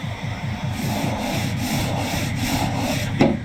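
Close, rapid hand-sanding of body filler in a shed, with steady rhythmic back-and-forth rasping strokes that are fairly loud and continuous.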